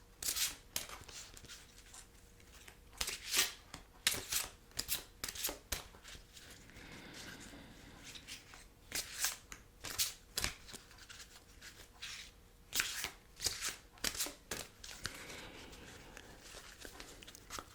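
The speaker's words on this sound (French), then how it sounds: "je vais d'abord battre les cartes, là, comme je viens de le faire" A deck of tarot cards is shuffled close up in a quiet ASMR setting, with repeated soft riffling and snapping bursts in an uneven rhythm.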